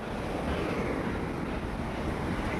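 Waves wash in at a river outlet in East Poblacion after a storm, a continuous broadband rush of surf with heavy wind buffeting on the microphone, loud and close with no pause.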